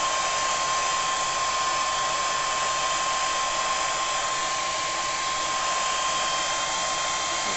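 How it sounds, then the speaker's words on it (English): A hair dryer on its cool, lowest setting blows in a constant, even whoosh with a steady motor whine, running alone without pause. "I've got the hairdryer on cool at the minute and as low as I can."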